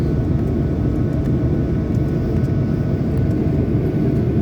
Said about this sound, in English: The plane just landed there.